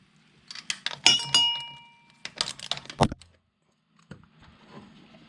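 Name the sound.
socket wrench removing K&N oil filter on motorcycle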